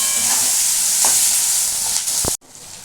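Onions fry in a pan, a loud, close sizzle with a few scraping stirs, before the sound cuts off abruptly near the end into quiet.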